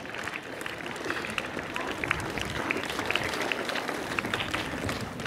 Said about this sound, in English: Please give a third round of applause.